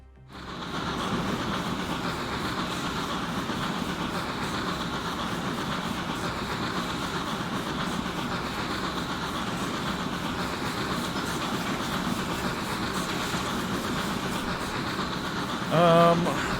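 A train in the video game Transport Fever 2 rolls along the tracks with a continuous, steady rumble and clatter throughout, ending with a brief chime-like tone near the end.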